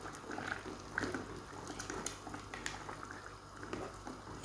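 Chicken salona with tomato paste simmers in a pot, a quiet, steady bubbling with soft pops and gentle liquid crackle throughout.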